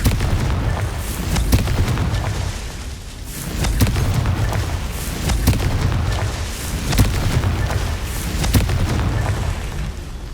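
Confringo blasting spells exploding in the Hogwarts Legacy video game: a series of loud booming blasts repeating every second or two over a constant rumbling din, close and heavy throughout.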